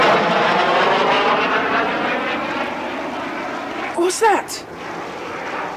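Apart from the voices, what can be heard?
airplane flying overhead, audiobook sound effect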